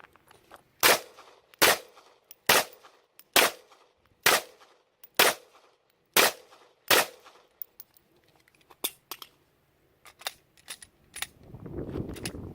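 A Springfield XD(M) 9mm pistol with a threaded barrel fires about eight sharp, evenly spaced shots at a steady pace, followed by a few scattered quieter clicks and a rising rustle. No one speaks.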